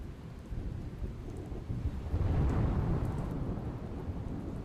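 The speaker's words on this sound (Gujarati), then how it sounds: "ગીર સોમનાથના તાલાલા અને વેરાવળમાં વરસાદ." Rain falls steadily in Gir Somnath, Gujarat, as a low thunder rumble swells midway and lingers under the wash of the monsoon downpour.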